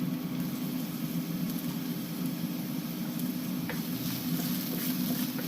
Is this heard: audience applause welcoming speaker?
no